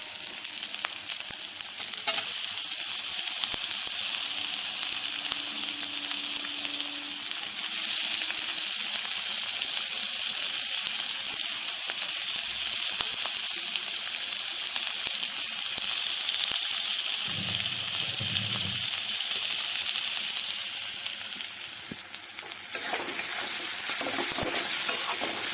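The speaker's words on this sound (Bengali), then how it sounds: "এবার আমি দিয়ে দেব কেটে রাখা টমেটো কুচি।" Chopped tomatoes go into a hot pan for palak paneer and are stirred as they sizzle. A steady, bright frying hiss runs throughout, with scraping stirs and a few soft knocks. The hiss briefly swells near the end.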